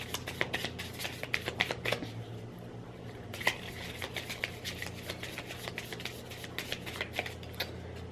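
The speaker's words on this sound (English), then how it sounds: "And then I'm gonna shuffle them again and whatever one we get first that pops out is the affirmation card of the day." A deck of affirmation cards being shuffled by hand, giving a long run of quick riffling flutters and soft card slaps, close and fairly quiet with a slightly sharper snap partway through.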